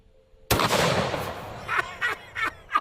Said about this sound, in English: The regular falling block four-bore first.